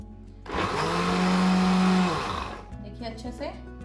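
Mixer grinder whirring as it blends fruit, a pinch of salt and other ingredients into an energy drink, loud and steady for about two seconds before winding down, followed by lighter clinking and handling sounds.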